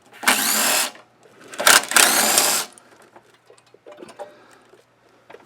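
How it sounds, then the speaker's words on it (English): Two loud bursts of a power tool whir while the carburetor is removed from a well-worn, dirty MTD lawn mower, followed by quieter clinks and taps of tools and parts nearby. "let's get this carb off and see what kind of shape it's in."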